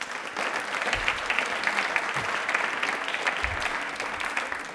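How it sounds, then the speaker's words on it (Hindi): Studio audience on a Rajasthani television quiz show breaks into steady, even applause, a moderately loud wash of many hands clapping without talk. "तालियां प्लीज एक बार जोरदार हो जाए।"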